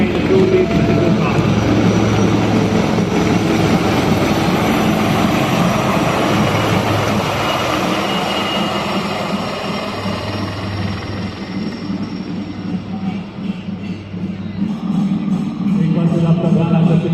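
Loud, continuous rotor and engine roar from military Rudra helicopters passing overhead at an Army Day parade in Jaipur, with a crowd and voices mixed in underneath.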